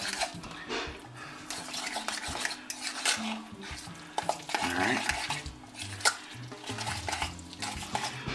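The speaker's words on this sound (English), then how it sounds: "Let's go ahead and get that on in the bowl. Alright, let's give that a quick mix." Drained tuna is stirred in a bowl with a utensil, producing soft scraping and clinking against the bowl in uneven bursts, fairly close and quiet, with one brief spoken word.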